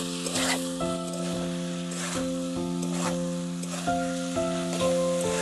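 Chicken sautés uncovered in a pan for curry, a continuous bright sizzle with periodic stirring scrapes, set against steady sustained musical tones in the background.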